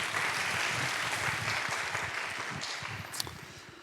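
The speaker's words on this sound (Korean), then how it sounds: "우리 다시 한번 하나님께 영광의 박수 하겠습니다." Dense, steady applause fills a church youth worship service, a crowd clapping together throughout and easing off slightly toward the end.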